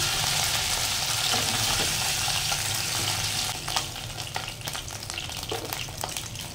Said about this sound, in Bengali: এই চিকেনগুলো এখানে আমার ফ্রাই হয়ে গেছে।